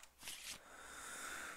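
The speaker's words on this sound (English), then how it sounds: "That gets shuffled." A deck of cards being shuffled during an Arkham Horror card game: one brief, quiet riffle lasting about a third of a second, followed by soft room hiss.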